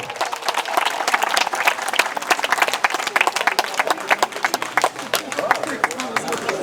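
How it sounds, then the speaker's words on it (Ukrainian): Energetic crowd applause for a Christian youth theatre troupe at a festival, loud continuous clapping throughout with some crowd babble mixed in. "Оплески, оплески, оплески!"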